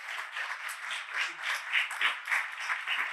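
A church congregation applauds during a Sunday service, a warm, continuous wash of many hands clapping at moderate volume with gentle swells, without anyone speaking.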